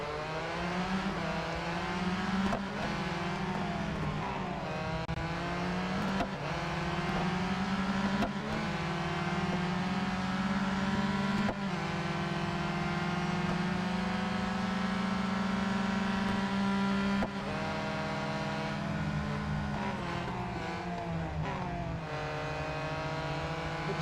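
An Aston Martin GTE race car in the Real Racing 3 game, a continuous loud engine drone rising and falling in pitch through repeated gear shifts, with no voices.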